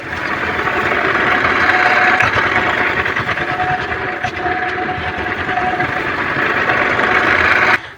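A tractor engine runs steadily during a mustard harvest, a loud, close, continuous rumbling drone that holds for about eight seconds before cutting off abruptly at the end.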